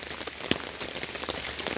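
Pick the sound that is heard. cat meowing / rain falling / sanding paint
rain falling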